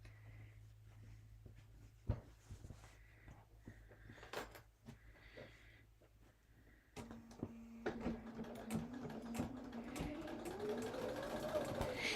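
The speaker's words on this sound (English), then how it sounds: "I'm going to take it to the machine and I'm going to go ahead and sew that." A domestic sewing machine stitches a holiday placemat, starting after a quiet stretch of small handling clicks and then running steadily and close, its motor hum rising slightly in pitch toward the end.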